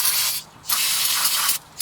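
Two loud, close bursts of brake cleaner spray hissing around a caliper piston on a 2000 Nissan Maxima's front brakes, each lasting about half a second or more, separated by a brief pause.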